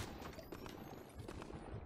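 Rapid gunfire in a squad-based shooter video game, a dense continuous burst of shots, fairly distant and quiet, with no talk over it.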